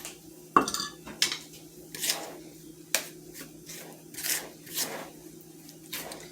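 Butter and heavy cream worked into biscuit dough in a bowl, with a spoon knocking and scraping against the bowl in irregular, fairly quiet clinks.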